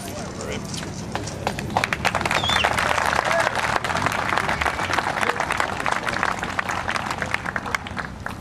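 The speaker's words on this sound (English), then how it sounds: "Always good when God can still get a little applause." Crowd applause and cheering at an outdoor speech in Lexington, a dense, steady roar of many hands clapping with voices mixed in, sustained loudly for several seconds.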